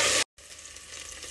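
Mint, browned onions and ginger-garlic paste sizzle loudly in hot oil, with a sharp burst that cuts off briefly before a steady, softer frying hiss returns.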